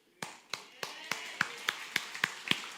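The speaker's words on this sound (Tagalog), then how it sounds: "Alam ko kung saan kayo pumalakpak." Audience clapping in unison at a talk, about ten sharp, evenly spaced claps in a steady rhythm, moderately loud in a room.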